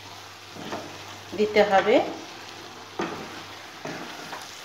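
Prawns and cabbage for Bengali chingri badhakopi ghonto are stirred in a frying pan, giving a steady low sizzle with a cluster of scraping stirs in the middle and a few single clinks after, a brief voice speaking at the end.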